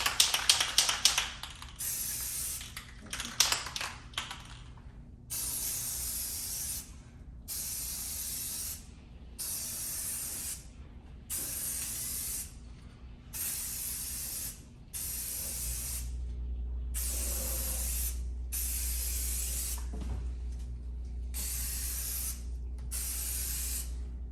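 A spray paint can hisses onto plastic vinyl in a dozen or so short, regular bursts, each a sharp airy spray separated by brief pauses, close to the microphone.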